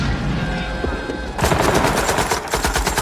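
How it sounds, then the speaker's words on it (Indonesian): Rapid automatic gunfire from a Vietnam war film, a loud burst of dense, rhythmic shots that starts abruptly partway through over a background rumble and continues to the end. "Joker terpaksa menembakkan peluru full metal jaketnya untuk membantu rekan-rekannya mencegah musuh"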